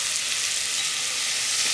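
Sliced onions fry in oil with a pinch of salt inside a pressure cooker, turning golden for chicken biryani, with a loud, continuous, even sizzle close by.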